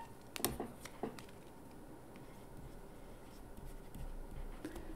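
Handwriting in a lecture setting: a few sharp pen taps and scratches at the start, then soft, steady scribbling under faint room noise.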